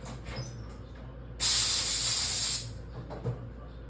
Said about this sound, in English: Quick spray down.